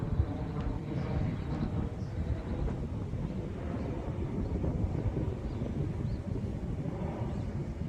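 A small plane flies at full throttle into the wind, its engine a steady, droning rumble mixed with wind buffeting, with no voices over it.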